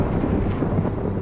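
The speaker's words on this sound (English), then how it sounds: "A storm was brewing." A low, continuous rumble of thunder from a brewing storm rolls on without a break, deep and broad, with no voices.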